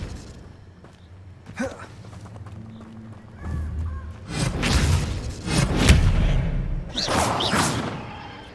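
Expelliarmus, the disarming spell in the Hogwarts Legacy video game, is cast with a couple of loud swelling whooshes and thuds in the second half, after quieter thumps and soft movement.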